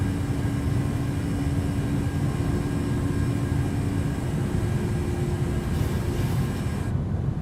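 Jet engines of a Southwest Airlines PMDG 737-700 roar steadily during takeoff in Microsoft Flight Simulator, a loud, continuous broadband rumble with a faint whine that holds level throughout, with no one talking.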